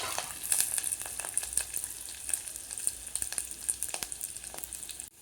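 Spices, garlic, ginger paste and curry leaves sizzle and crackle in hot oil in an Uttara Karnataka kitchen, with bursts of popping and soft stirring scrapes, close and steady.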